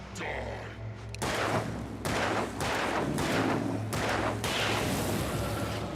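Gunfire from the video game Alan Wake as a gun is fired at an enemy, several loud, sharp shots crack out in an irregular sequence, each followed by a brief echoing decay, over a low ambient hum.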